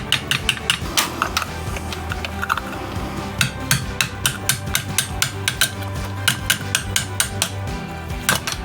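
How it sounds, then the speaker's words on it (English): A chisel punch is hammered to close the tabs on a Honda S2000 window regulator case, giving a rapid series of sharp metallic strikes in uneven bursts, close and loud with no talk. "I'll take a chisel punch. I'm gonna close these tabs."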